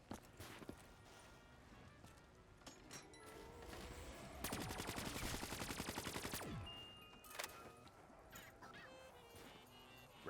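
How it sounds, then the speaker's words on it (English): Video-game machine gun rattling off a sustained rapid burst of several seconds in the middle, amid scattered battlefield gunfire and effects before and after. "Rapid fire lead slinger spreading peace around the battlefield."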